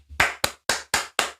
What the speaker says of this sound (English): That's the church clap